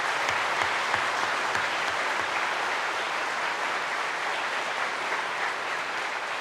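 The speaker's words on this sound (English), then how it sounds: "Let's give a round of applause." Sustained, even applause fills the room at a military change of command ceremony, honoring an honor guard's presentation of the colors; the clapping is dense and constant throughout, heard alone without speech.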